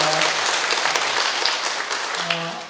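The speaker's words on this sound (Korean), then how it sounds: "격려와 감사의 박수를 한번 좀 했으면 좋겠습니다" Audience at a residents' briefing for a Seoul neighborhood redevelopment project gives a round of applause, dense and steady before tapering slightly near the end, with a faint voice briefly underneath.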